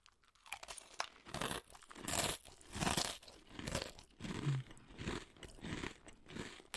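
Crunchy Cap'n Crunch cereal is chewed close to the mouth in a series of crisp, rhythmic crunching bites, quiet and intimate, with no talking.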